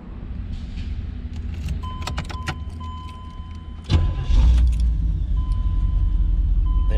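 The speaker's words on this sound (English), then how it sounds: "There it goes, car is running." Keys jangle and click in the ignition of a 1986 Pontiac Trans Am, followed by a chime and the engine starting with a loud crank and catching into a steady, rumbling idle, with no talking.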